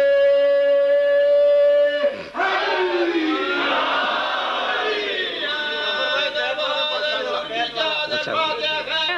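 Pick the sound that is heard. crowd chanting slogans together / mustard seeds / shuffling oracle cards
crowd chanting slogans together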